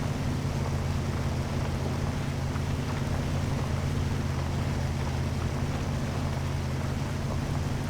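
A Dodge Ramcharger mod truck in Spintires strains uphill on a slope, its engine a loud, steady low drone with a constant rushing noise and no let-up.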